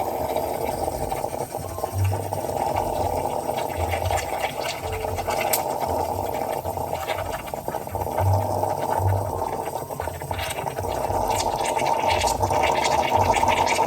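Krups espresso machine steam wand frothing milk for cappuccino: a steady close hiss and bubbling gurgle running continuously, loud and unbroken throughout, with no talking.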